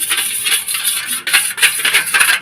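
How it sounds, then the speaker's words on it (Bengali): A fork or whisk beats egg in a bowl, quick repeated metallic clinks and taps against the rim in a fast, steady rhythm, close and clear with no talking. "ডিমটাকে আমি ভালোভাবে পেস্ট করে নিচ্ছি দেখুন"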